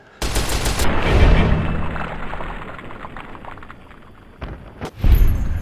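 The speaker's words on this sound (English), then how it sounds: "it's now time to cover the oversized, heavy-hitting, rapid-fire, shoulder-mounted machine gun" An oversized, shoulder-mounted rapid-fire machine gun in Fallout: New Vegas Lonesome Road unleashes a loud heavy burst that rumbles and fades, followed by further sharp booming shots near the end.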